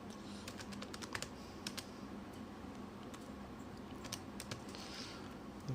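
Calculator buttons pressed in quick, irregular taps over a steady low room hum during a maths lesson, with no talking.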